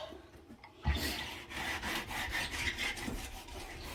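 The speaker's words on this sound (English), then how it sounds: "it's just scraping all this paint off" Dried, stuck-on paint being scraped off a stainless steel sink, a steady run of rough rasping strokes close up, fairly loud and continuous with no talking.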